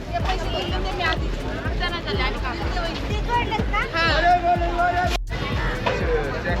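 A busy market crowd murmurs all around, many overlapping voices and close footsteps forming a constant lively hubbub.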